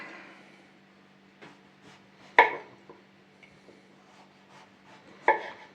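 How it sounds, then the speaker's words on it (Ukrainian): Knife slicing zucchini lengthwise into thin strips about half a centimetre thick, giving a few sparse, soft cuts against a board with two sharper knocks, fairly close in a quiet kitchen. "Тепер кабачки я буду нарізати"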